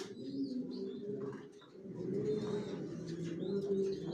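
Soft, steady cooing from Johnson-line racing pigeons in a loft, a low continuous murmur with faint chirps above it and no voices.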